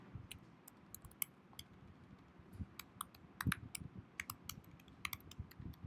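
Rapid, uneven clicking of keys on a computer keyboard as code is typed, steady close-up tapping with occasional louder strokes, no talking.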